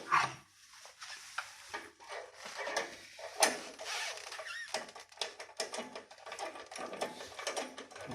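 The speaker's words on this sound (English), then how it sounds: "we will raise this drum." A drum on a torsional vibration test rig is raised, giving a series of ratcheting clicks and mechanical clatters in uneven bursts, moderately near in a quiet lab.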